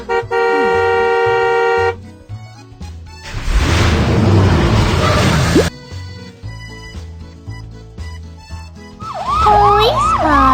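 Cartoon police car siren from a children's transportation game rises and falls in a wavering electronic wail near the end, preceded by bouncy game music and a burst of noisy sound effects.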